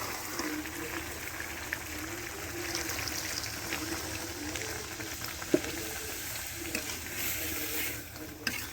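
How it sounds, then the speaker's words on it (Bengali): Water is poured into a pot of cooking desi chicken curry after the meat has been fried down, giving a faint, soft trickle and bubbling with light clinks underneath. "এবার আর জল দেবো।"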